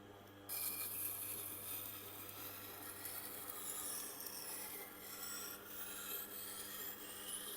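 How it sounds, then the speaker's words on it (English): A single bevel Japanese knife is held against the turning wheel of a Tormek T8 sharpener, giving a steady, quiet rasping grind that carries on without a break and has no talk over it. "just pausing there for a few more moments just to make sure that it develops a full grind there"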